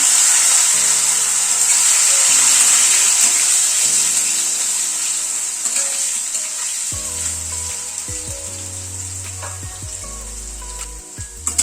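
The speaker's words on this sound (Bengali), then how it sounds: "গ্যাসের ফ্লেমটাকে মিডিয়ামে রেখে আলুটাকে একটু ফ্রাই করে নিচ্ছি।" Cut potatoes fry in hot oil in a pan over a medium gas flame, a continuous loud close sizzle with a bright hiss, while background music plays softly underneath.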